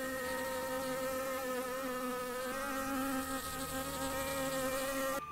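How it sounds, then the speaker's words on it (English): Bees buzz in a steady, close, continuous drone that holds unbroken for several seconds, with no voices over it. "He could hear them buzzing when he put his hands over his ears."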